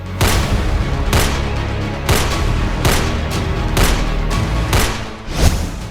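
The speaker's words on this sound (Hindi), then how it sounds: "तीनों ने एक शख्स पर दनादन गोलियां बरसानी शुरू कर दी" Rapid gunshots from three shooters crack in a quick, irregular string of loud bangs, about seven sharp reports over several seconds against a noisy outdoor background.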